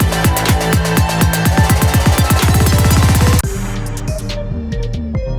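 A drum build-up plays only kicks and snares, the hits coming faster and harder in a steady, loud electronic roll until it cuts off into the next bar.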